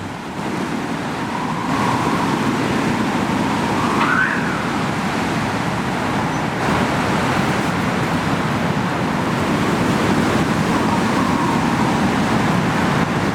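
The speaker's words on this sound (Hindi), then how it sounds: "हवाओं की तेज रफ्तार" Strong wind roars steadily and loudly throughout, a dense broadband rush with no voices.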